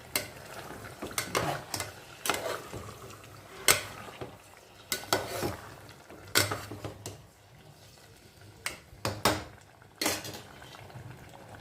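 Chicken biryani being mixed in a pot, with repeated sharp scrapes and clinks of a spoon against the metal in an irregular rhythm, close and distinct over a quiet background.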